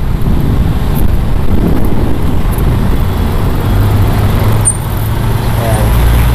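Busy street traffic near the Capitol junction, with a steady close roar of cars and buses, some wind buffeting the microphone, and someone talking over it.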